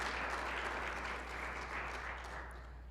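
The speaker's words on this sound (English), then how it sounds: "I want to actually give them all a round of applause for all that they're doing." Church congregation applauding during a ministry report, a steady wash of clapping that fills the whole stretch and tapers slightly toward the end, with no voices over it.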